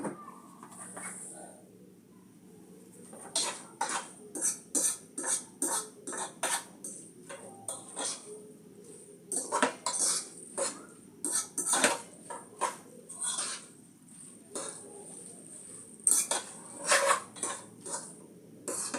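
Spaghetti being mixed in a deep pot with oil, margarine and garlic, a long run of clinking, scraping utensil knocks against the pot in irregular bursts, close and fairly loud, with no talking.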